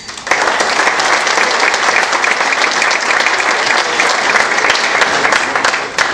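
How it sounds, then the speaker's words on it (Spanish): Dense, loud applause from a large audience at a business leaders' council meeting welcomes the education secretary to the stage, a steady wash of many hands clapping with no voices over it. "Lo recibimos con un fuerte aplauso."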